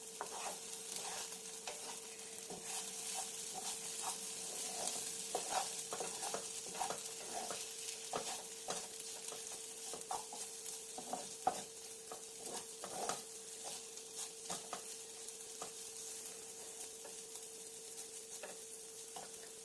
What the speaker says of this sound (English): I'm going to stir it now.